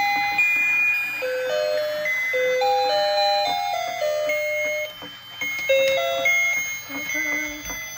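A toy ornament maker plays a tinkly electronic melody of bright chiming notes, steady and fairly close, with brief voices in the background.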